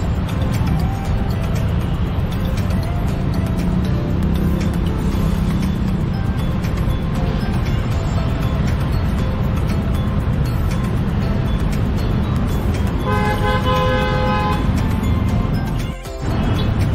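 Steady, loud street traffic in a heavy jam on Jalan Prof. Dr. Satrio in Kuningan, Jakarta, with a dense engine rumble throughout and a brief tonal horn-like blare near the end.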